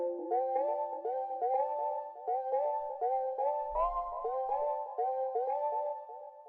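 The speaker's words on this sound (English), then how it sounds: "Next sound we have here is this lead, which sounds like this." Simple three-note synth lead from a minimal house track, a bright harmonic tone repeating a short choppy pattern in steady rhythm, close and alone, with a brief low thump near the middle.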